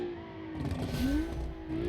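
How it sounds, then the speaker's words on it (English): Modified sport wagon engine revs with a deep throaty exhaust note, pitch dipping and then climbing as the throttle is worked, heard close and fairly loud from inside or near the car. "I love the exhaust."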